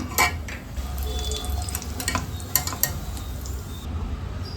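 Roasted gram, peanuts and cashews fry in oil for khara boondi while being stirred in the pan, giving a continuous close sizzle broken by clinks and scrapes of the spoon against metal, with no speech.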